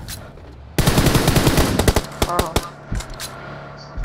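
Rapid automatic gunfire in a shooter video game cuts in abruptly, a loud dense burst of shots thinning into scattered single cracks, with a few more distant pops afterward.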